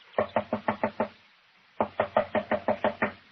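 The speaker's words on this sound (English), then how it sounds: "She must be out. Door's locked. Knock again, if you don't mind." Knocks on a door in an old-time radio drama, a crisp, close burst of six evenly spaced raps, a short pause, then a second, longer series of eight raps, with no voices.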